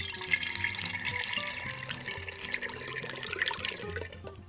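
Mulberry juice being poured into a mead batch, a steady splashing liquid pour with soft trickles, close and fairly quiet, with no talking.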